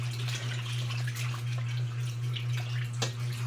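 Tap water runs steadily for hand washing, a continuous splashing stream with a low steady hum beneath it and an occasional clatter, fairly loud and close, without talking.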